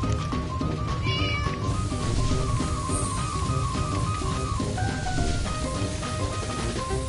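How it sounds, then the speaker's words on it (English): A cat meows repeatedly over steady background music in the firefighting video game Flame Over, the calls rising and falling as plaintive in-game cries. "why aren't you meowing?"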